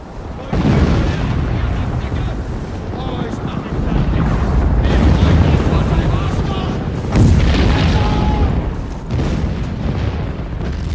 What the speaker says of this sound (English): But then they had to put up with the ever mind-numbing artillery barrages.